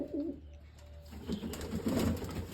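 Pigeons coo softly inside a pigeon coop, low throaty calls repeating close by amid faint background noise.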